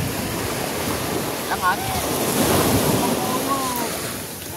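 Lots of rushing water roars in a steady broadband wash with wind buffeting the microphone, loud and continuous, while voices speak briefly and faintly underneath.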